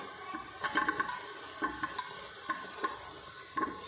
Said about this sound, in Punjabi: ਹੁਣ ਅਸੀਂ ਇਹਦੇ ਵਿੱਚ ਪਨੀਰ ਪਾ ਦਾਂਗੇ